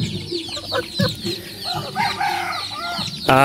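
Several native chickens cluck and squawk close by in a busy, overlapping chorus on a farm, with a sharp louder squawk near the end.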